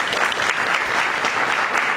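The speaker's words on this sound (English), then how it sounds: "I really think we should give her a big round of applause" A school audience gives a round of applause, dense continuous clapping that stays loud and even throughout.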